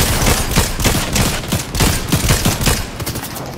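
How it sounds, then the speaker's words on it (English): Rapid, continuous gunfire in the Fortnite video game, with dense overlapping shots and bursts rattling steadily for several seconds at close range, loud and without talk. "They're shooting at me."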